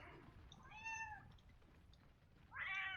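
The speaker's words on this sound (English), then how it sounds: "My cat is standing on the desk next to me." A cat standing on a desk gives two clear, close meows about a second and a half apart over a faint background hum.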